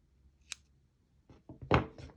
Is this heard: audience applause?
no